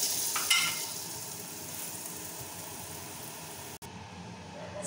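Aloo paratha fries in butter on a pan with a soft, steady sizzle and a brief crackle near the start, fairly faint and close, a short cut near the end.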